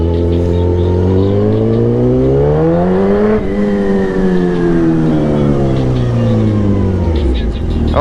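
Motorcycle riding downtown, its engine revving up and down through rising and falling pitch sweeps, loud and close, with street noise around it.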